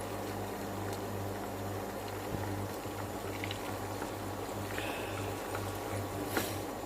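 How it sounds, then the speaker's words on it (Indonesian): Peanuts frying in oil for a bakcang filling give off a steady, dense sizzling hiss with fine crackles that holds evenly throughout, close and alone. "Sini ada minyak, saya mau goreng nih kacang tanah."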